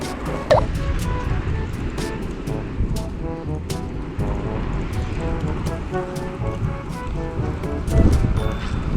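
Spring wind buffets the microphone at a river confluence used for bass fishing in Chungnam. It makes a constant low rumble and roar with gusts rising near the end, while someone talks intermittently over it.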